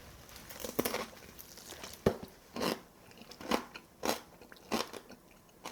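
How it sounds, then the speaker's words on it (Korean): Big bites into a super crispy bone-in pork loin chop, skin and meat together, giving several close, sharp crunches spaced apart with quieter chewing crackle between them, no talking. "껍질부터 속살까지 이렇게 한번 크게 한번 베어 물어 볼게요"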